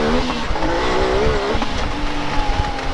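A turbocharged Yamaha YXZ side-by-side engine revs loudly and close, its pitch rising and falling in a rough, throaty drone with turbo spool.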